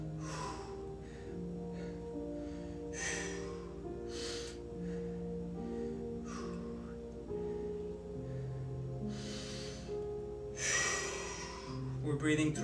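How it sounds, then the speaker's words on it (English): Breaths drawn through the nose during a home workout come as several short airy puffs over a steady tonal musical background. "We're breathing through the nose right now."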